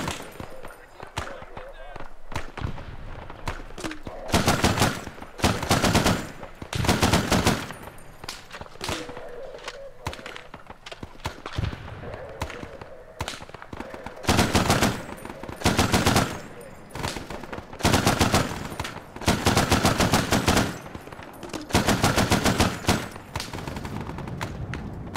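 Automatic gunfire in the Arma 3 video game, Prairie Fire DLC: loud, close bursts of rapid shots repeat every few seconds across the whole stretch, with a voice speaking at times between the volleys.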